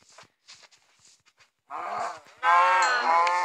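A cow in the video game Minecraft gives two loud, low moos back to back near the end, after a few quiet clicks and taps.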